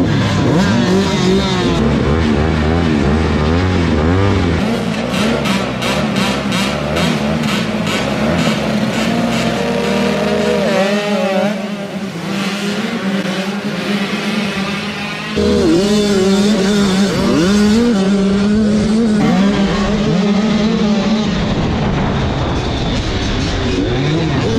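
Beginner 85cc dirt bikes race in an indoor arenacross heat, their engines whining steadily with overlapping rising and falling revs as several machines pass, loud and continuous throughout.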